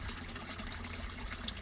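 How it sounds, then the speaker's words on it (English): A tomato plant cutting is set back into water, a soft trickling, sloshing wash with a small splash near the end, close and steady with no talk. "put her back in the water"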